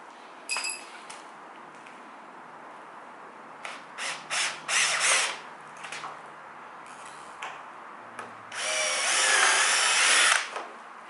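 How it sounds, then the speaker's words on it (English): A power drill with a small bit whirs into PVC in several short bursts, then one longer steady drilling run, with light clicks and handling noises between. "I'm going to go through with my smaller drill bit."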